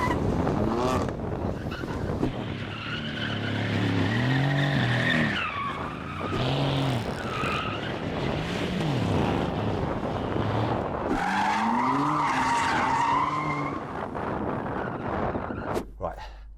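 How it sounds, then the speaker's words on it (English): Cars including a BMW M4, AMG C63s and Lexus RC F do donuts, their tires squealing and howling continuously in long wavering screeches over revving engines, with a voice talking throughout. "they've got to go and do some donuts."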